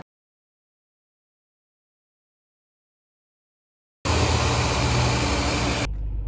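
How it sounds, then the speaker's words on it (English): A car engine running steadily at close range, a loud even rumble that starts abruptly after about four seconds of silence and continues to the end. "if that sounds like a running engine, it's because it is."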